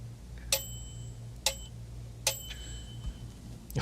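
The small bell of a 1935 IBM Model 01 typewriter under repair dings four times, each a sharp, thin ring that fades quickly, spaced about a second apart over faint room noise.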